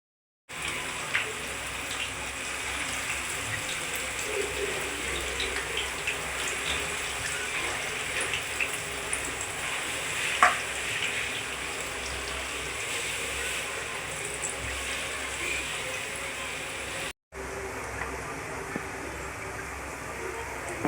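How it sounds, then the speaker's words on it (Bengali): Gadal leaf pakoras deep-frying one by one in hot white oil give a steady, dense sizzle that runs unbroken for the whole stretch, briefly dipping once near the end. "তেল গরম হয়ে গেলে এরপরে আমি দেব এক এক করে গাঁদাল পাতার পকোড়া"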